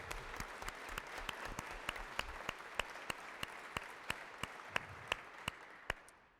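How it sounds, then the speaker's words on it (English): Audience applause at a public service awards ceremony, a broad patter of many hands with one loud, sharp clapper standing out in steady regular beats, the whole crowd slowly fading toward the end. "Let's have Emily stand up and give her a round of applause."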